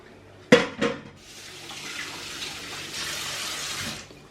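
Cooked kholodets, a meat aspic, being poured into dishes: two sharp splashy clinks at the start, then a steady liquid pouring and trickling stream that runs on for a few seconds before stopping.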